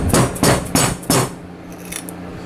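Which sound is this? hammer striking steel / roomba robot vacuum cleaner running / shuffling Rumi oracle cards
hammer striking steel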